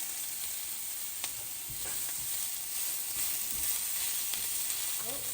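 Dried shrimp and chili frying in oil in a pan for ethakka upperi (plantain fry), a steady close sizzle running throughout with occasional stirring scrapes and crackles.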